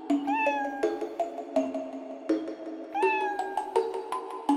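A cat meows repeatedly in a series of clear, rising and falling calls, fairly close and loud, with no other sounds or voices.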